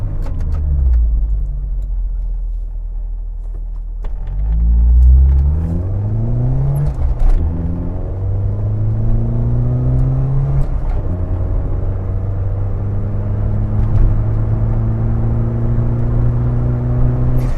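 An Austin Metro car spins one tyre in place, the engine revving hard as the pitch climbs in repeated rising sweeps, loud and close for the whole stretch.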